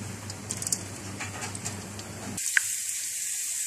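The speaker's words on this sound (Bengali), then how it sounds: "আমি কাঁচামরিচ আর পেঁয়াজটাকে একটু ভেজে নিচ্ছি ভালো করে।" Chopped onion and green chili fry in oil in a hot wok, a close, steady crackling sizzle with small pops, shifting to a brighter hiss near the end.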